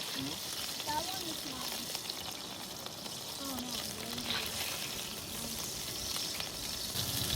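A burger patty fries in a pan at an outdoor picnic, giving off a steady, close sizzle throughout with faint clinks and a voice speaking now and then over it.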